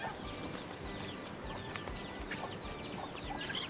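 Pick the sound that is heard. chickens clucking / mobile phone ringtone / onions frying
chickens clucking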